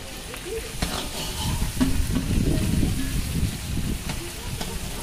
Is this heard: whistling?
no